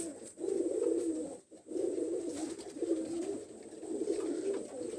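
Teddy breed pigeons cooing close by, repeated soft throaty coos in a steady rolling rhythm with a short pause partway through, and no talking.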